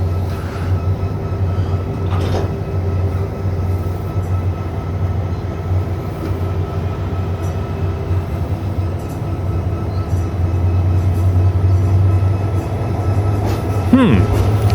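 A train rumbles steadily on the rails at Songchu Station with a low drone and occasional clatter, ending in a brief high wheel squeal.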